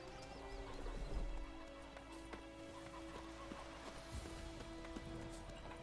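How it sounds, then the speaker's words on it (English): Hooves of Geralt's horse Roach in The Witcher 3 video game, a steady clip-clop of galloping under an ongoing game soundtrack, moderately loud and continuous throughout. "Here's Roach."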